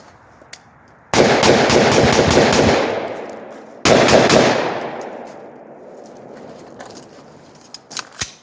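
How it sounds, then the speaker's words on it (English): Two bursts of rapid rifle fire through a linear comp muzzle brake, outdoors at night in winter, each a loud volley of closely spaced shots followed by a long, fading echo, with a few faint clicks near the end. "so let's fire off some shots, and let's see what you guys can see with this linear comp."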